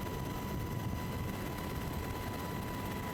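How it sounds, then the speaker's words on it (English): A Sikorsky UH-60 Blackhawk twin-engine helicopter in a tight banking turn, a steady, loud rotor and engine roar with a constant whine, heard from on board. "the Sikorsky Blackhawk executes a tight banking turnaround"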